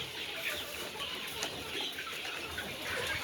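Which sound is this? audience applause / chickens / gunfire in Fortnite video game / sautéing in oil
chickens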